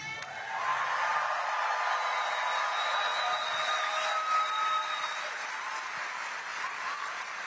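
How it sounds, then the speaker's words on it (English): Rally crowd applauds steadily, a dense wash of clapping from a large audience that holds at even loudness throughout, with faint cheers mixed in. "Can we hear a round of applause for Luis?"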